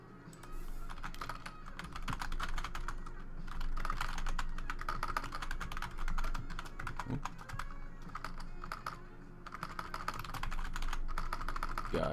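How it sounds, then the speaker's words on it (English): Rapid, irregular clicking of keys on a computer keyboard while coding a game in Unity, close and steady with brief pauses, no voices. "God, I suck at typing right now."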